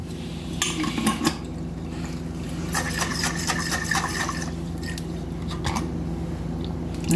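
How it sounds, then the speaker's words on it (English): Water being added to a salsa jar in a home kitchen to rinse out the leftovers, with clinking glass and liquid sloshing close by, a steady wet rattle running through most of the stretch. "I'm going to put me just a little water to get all of this out."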